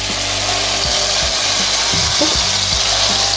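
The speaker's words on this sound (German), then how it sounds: "So, jetzt geht's ans Braten und das ist auch ganz einfach." Potato pancake batter sizzles in hot oil in a pan, a loud, steady crackling fry with faint low knocks and scrapes underneath and no voices.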